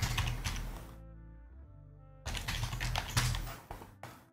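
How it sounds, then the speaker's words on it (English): Typing on a computer keyboard while building a cloud architecture diagram, heard as bursts of quick close clicks broken by a pause of about a second, with music playing throughout. "I'm going to first type"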